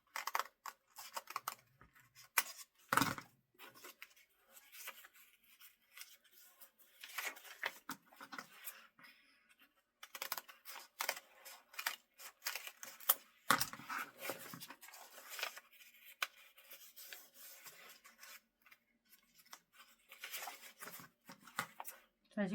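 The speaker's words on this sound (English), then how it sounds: "Now this you could do with scissors or continue with your X-Acto knife" Scissors or an X-Acto knife cut through book pages, slicing each page in half while making a folded book vase. Crisp, irregular snips and rustling paper run throughout, mixed with occasional speech.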